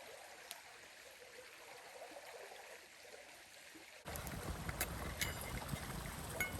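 A pot of water boiling over a campfire outdoors, heard as a steady broadband hiss and bubbling that jumps abruptly louder partway through and stays constant, near and continuous, with no talk.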